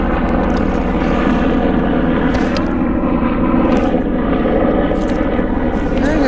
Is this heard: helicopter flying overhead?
yes